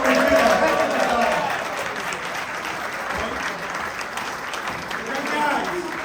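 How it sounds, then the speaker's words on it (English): An audience at a political debate among three candidates applauds the moderators, steady clapping filling the room and tapering off slightly, with a voice talking over it. "I'd like to please give applause to our moderators"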